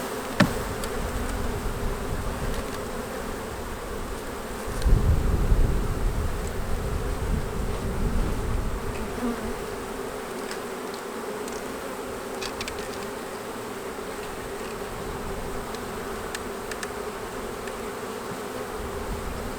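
A dense swarm of honey bees, a 3-pound package of roughly 10,000 to 12,000, buzzes continuously in a confined space, a steady droning hum with a louder surge partway through.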